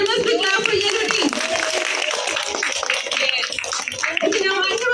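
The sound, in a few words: students clapping for the yellow team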